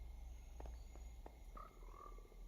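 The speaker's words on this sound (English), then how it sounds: "They had the golden frogs from Primordial Caves." Golden frogs croak in the Primordial Caves area of a video game, a few short, faint croaks spaced irregularly over a low rumbling ambient drone.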